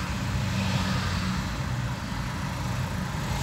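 Car engine running low in dense, slow city traffic in Konya, a steady broadband rumble of engine and surrounding vehicles, continuous and fairly loud, with no talking.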